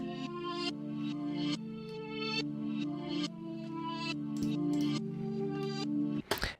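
A reversed melody in a beat swells in backward chords that fade in and cut off abruptly, a steady series of sustained tonal notes ending in a sharp swoosh, alone without talk.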